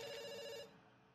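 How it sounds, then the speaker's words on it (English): A telephone rings in the video game Dr. Langeskov with a steady electronic trill, loud and close, and then it cuts off at once, leaving a quiet room tone. "It's still ringing."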